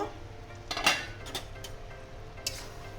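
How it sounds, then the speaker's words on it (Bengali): A metal lid lifts off a pot of lentils simmering with egg, giving a couple of close clinks and clatters, with a quieter knock a moment later and a faint background hum. "ঢাকনাটা তুলে নেব।"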